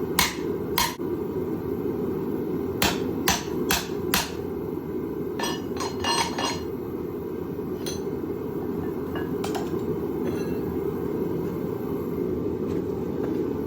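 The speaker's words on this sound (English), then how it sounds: "Give this a hit with the hammer." Hammer blows on flat scrap steel while forging a holdfast, a dozen or so sharp metallic strikes, some in quick clusters and others spaced apart, ringing over a constant low roar.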